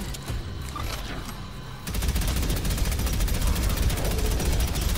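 Rapid gunfire in the first-person shooter Prodeus rattles in a dense, fast stream that grows louder and more constant after the first couple of seconds.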